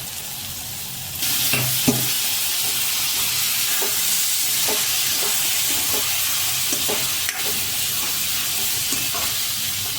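Boiled pigeon peas (tuvar) tumble into masala frying in a pan, giving a steady, close sizzle and hiss with scattered scraping stirs, the bubbling rising sharply after a quiet first second.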